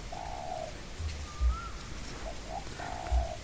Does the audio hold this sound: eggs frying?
no